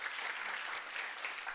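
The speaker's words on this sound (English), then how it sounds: "let's give them a warm applause" Short burst of steady audience applause at a university lifelong-learning programme event, even and fairly quiet throughout, with no voices over it.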